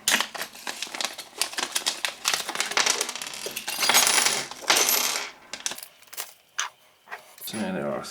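A SmallRig cage being fitted to a Sony A6000 camera with an Allen key makes sharp metallic clinks and rattling taps of small screws and tools, in uneven bursts with brief pauses.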